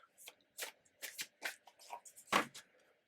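Tarot cards riffle and slap together in a series of quick, close bursts, a handful of separate shuffles with short pauses between them.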